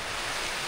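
Strong wind gusts driving rain across a foggy, rainy campsite at Maple Nature Camp in Sta Maria, Laguna, heard as a brief, loud, steady roaring rush with no talking.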